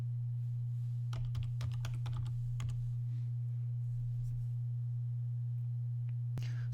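A burst of quick keystrokes on a computer keyboard while a terminal command is entered, faint clicks over a steady low electrical hum, then a few isolated taps and a final sharp click.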